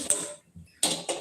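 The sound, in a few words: gas stove being lit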